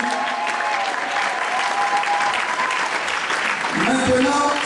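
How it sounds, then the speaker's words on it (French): A church congregation breaks into loud, dense applause that runs steadily throughout, with crowd voices mixed in beneath the clapping. "Acclamons, acclamons Jésus."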